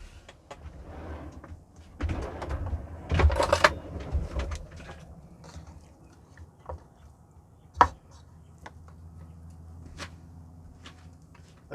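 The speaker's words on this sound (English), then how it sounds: "Again, just a rough chop for the bacon." A knife roughly chopping bacon rashers with rind left on, in a van kitchen while making pumpkin and chorizo soup: scattered close thuds and knocks on a board, a busier burst early on, then a few sharp isolated hits.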